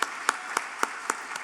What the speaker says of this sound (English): Please rise for a round of applause, a warm round of applause